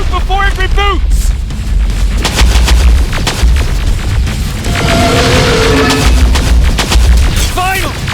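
Gunfire in the video game Terminator Resistance: repeated loud shots and booming blasts layered over a dense battle din, with brief synthetic voice and electronic chirps between bursts.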